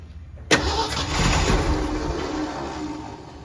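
The engine of a 1979 Ford L-600 service truck, found in a barn and unstarted for 17 years, cranks with a sudden burst then catches, rumbling loud and uneven for a few seconds as it settles toward idle.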